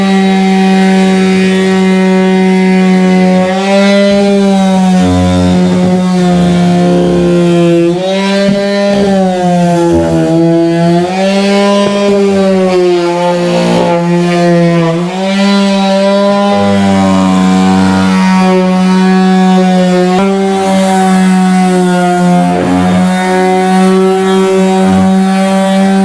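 A Ryobi 100W palm detail sander runs steadily and loudly, its motor giving a continuous buzzing whine with a slight wavering pitch throughout, alone with no talking.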